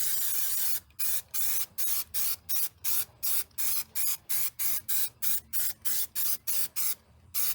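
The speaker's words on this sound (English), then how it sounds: "I sprayed the headliner again right there" Spray adhesive hisses onto the headliner of a VW Beetle in short, even bursts, about twenty quick sprays in a steady rhythm, close and moderately loud with no talking.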